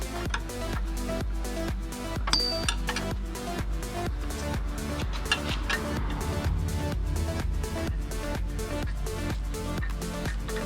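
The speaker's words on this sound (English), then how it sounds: "we're going to use our ratcheting 16-inch millimeter to take out these two bolts that are holding on the rubber grommet" A 16 mm ratcheting wrench backs out bolts holding a rubber grommet on the A-arm of a 2001 BMW 330xi, producing rapid, even clicking strokes close up with no pauses across the whole stretch.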